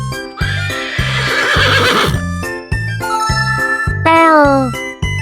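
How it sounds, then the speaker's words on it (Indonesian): A horse neighs loudly and close, several whinnies in a row over a steady rhythmic musical beat with faint jingling, ending in a long descending whinny. "Kuda."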